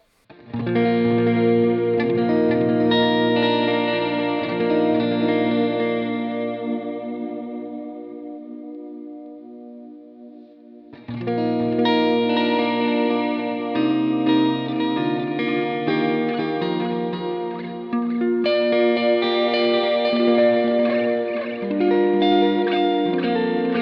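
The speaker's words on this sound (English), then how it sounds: "this dynamic hall reverb, a vintage digital delay" Sustained electric guitar chords through a Line 6 POD Go ringing out with a wide dynamic hall reverb and vintage digital delay trails, pausing briefly before a fuller, busier passage resumes.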